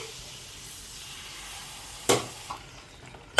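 Chicken pieces go into a hot pan for a Kerala-style chicken curry after Kashmiri chilli powder, giving a steady low sizzle with a sharp burst of frying hiss at the drop and a couple of smaller crackles after.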